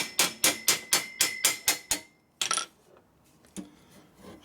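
Eight sharp, evenly spaced hammer blows ring out close on a Harley-Davidson panhead part, followed by a few scattered metallic knocks and taps; no talking.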